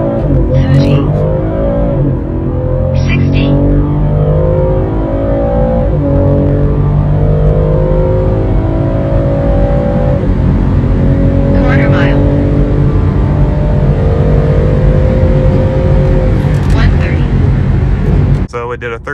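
A BMW M340i xDrive (G20) accelerates hard from a standstill up to about 130 mph: a loud, continuous engine roar with rising pitch sweeps and brief shift breaks, steady and close throughout.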